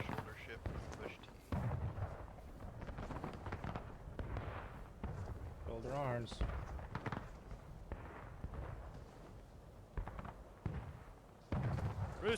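Cannon fire at a memorial ceremony for a brigadier general, heavy booming reports that repeat among shouted drill commands and other voices, recorded loud and close.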